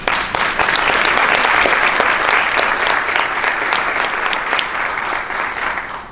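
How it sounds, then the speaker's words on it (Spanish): Audience applauding at a forum on political violence against women in digital spaces, a dense, loud, sustained clapping that fills the room and slowly fades toward the end. "Me alienta mucho su aplauso"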